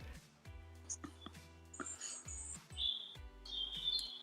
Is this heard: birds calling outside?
yes